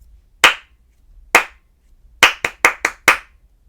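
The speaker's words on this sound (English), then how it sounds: "I'm going to clap a rhythm that uses four fruits" Hand clapping a slow rhythm of seven sharp, close claps: two widely spaced claps, then a quicker run of five, with no voices over them.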